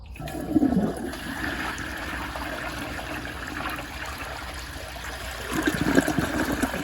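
A 1963 Briggs forward trap toilet flushes close by, a steady rushing gush of water through the bowl with a louder surge at the start and another toward the end, no talking over it.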